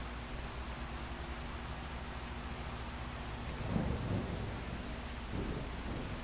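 Steady heavy rain hiss in the Farming Simulator 25 game, with low rumbles of thunder swelling midway and again near the end.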